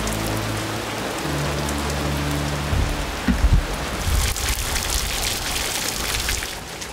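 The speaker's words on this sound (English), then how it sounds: "honestly, I don't really care about the rain." Steady rain falling hard during a storm, a dense continuous hiss of drops on surfaces with a few heavier knocks and low rumbles, no voices.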